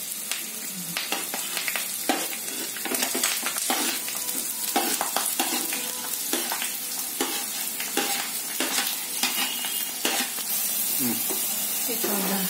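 Onion and curry leaves fry in hot oil for a spicy masala brain fry, giving a loud continuous sizzle broken by frequent sharp crackles and stirring scrapes.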